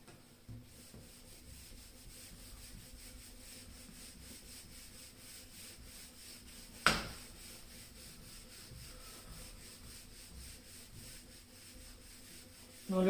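Board being rubbed clean with steady, soft, continuous scrubbing, one sharp knock midway and a louder bump at the very end, close and fairly faint, with no speech.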